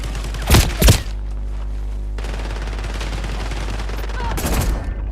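Bursts of automatic gunfire in a shooter game: two sharp volleys near the start and another toward the end, loud and close over a steady low rumble.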